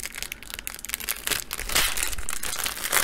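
A plastic baggie being opened, heard as dense, close crinkling and crushing with irregular rustling bursts throughout.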